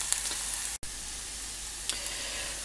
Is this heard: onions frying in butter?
yes